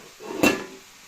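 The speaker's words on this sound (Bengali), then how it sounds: "ঢাকনা দিয়ে দিচ্ছি।" A cooking pot of Bengali vegetable pulao gets its lid set down with a single brief clunk of metal contact, moderately close, against a quiet room background.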